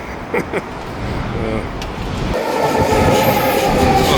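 A train rolls past near Sapperton station, its rumble swelling steadily and staying loud through the latter half, after some quieter background sounds and brief knocks at the start.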